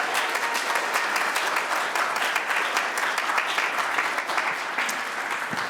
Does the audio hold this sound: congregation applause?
yes